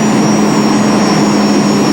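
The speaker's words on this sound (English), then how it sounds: "This tractor beginning its 4th year of pulling." Pulling tractor in its fourth season roars at full power during a tractor pull, a loud, continuous, high-pitched whine over heavy low-end rumble.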